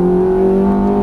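Ferrari F430 accelerating hard on the Fontana race track, a loud, steady engine drone with strong tonal harmonics held close and continuous throughout, no voices over it.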